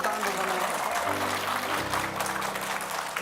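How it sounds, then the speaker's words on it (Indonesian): Studio audience applause on an Indonesian talk show, a steady wash of clapping that continues throughout, with voices and some tonal background sound running underneath. "tepuk tangan dong, Mami"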